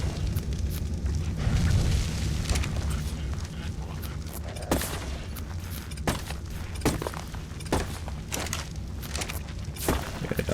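Shotgun blasts ring out in Ark: Aberration, a series of irregular sharp booms and cracks over a rumbling in-game background.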